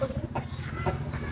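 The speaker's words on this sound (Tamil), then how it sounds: "ஸோ இதுதான் நம்ம வீட்டு கோழிங்க." Domestic hens at a family home clucking in short, soft bursts, a few close calls over a low background hum.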